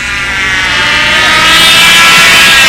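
A model airplane at a windy fly-in drones overhead with a loud, high-pitched buzzing engine whine that rises steadily in strength as it passes close.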